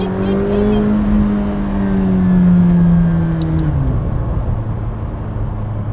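A McLaren 720S with twin-turbo V8 and Performance Package accelerates hard from inside the cabin, a loud rising engine tone climbing through the gear then dropping at a shift before pulling again, with faint voices behind.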